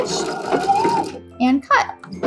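Domestic sewing machine running a regular straight stitch along a lapped zipper seam with 5/8 inch seam allowance, whirring in short bursts that stop and start, close and fairly loud, with someone talking over it.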